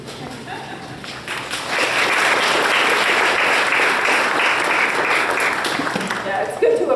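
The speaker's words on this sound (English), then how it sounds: "it's good to applaud" Applause from the audience at a memorial service, a dense steady wash of many hands that swells after a softer start and holds loud for several seconds, with a few voices mixed in near the end.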